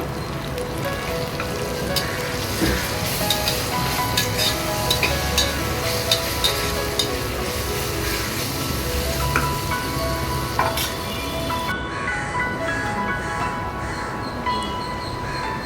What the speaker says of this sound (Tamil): இஞ்சி பூண்டு உள்ளதையும் சேர்த்து நல்லா வதக்கி விட்டுக்கோங்க